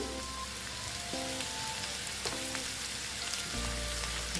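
Onions frying with salt in a pan for lote shutki bharta give off a steady, close sizzle that crackles on without a break, with no voices.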